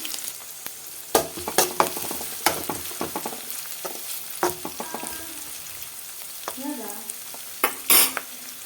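Onions and fennel seeds fry in a few spoons of oil while a spoon stirs them, with a hissing sizzle broken by irregular scraping clatters, close and clear, with no voices.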